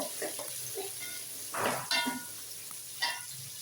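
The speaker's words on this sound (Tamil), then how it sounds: "இப்போ வெங்காயம் வந்து நல்லா வதங்கி வரட்டும்." Onions sautéing in oil in a pan for paneer biryani, a low hiss of frying broken by a few louder scraping stirs and clanks of the spoon.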